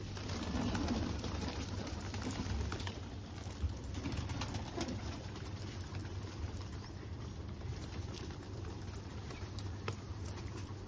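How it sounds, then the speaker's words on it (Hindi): A caught bhavra pigeon in a Delhi pigeon-keeping setting gives soft, low cooing murmurs amid faint fluttering and rustling, close and quiet, with no talk. "तो गाइस ये है वो कबूतर जो मैंने पकड़ा है,"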